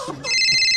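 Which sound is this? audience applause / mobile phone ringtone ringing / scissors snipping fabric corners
mobile phone ringtone ringing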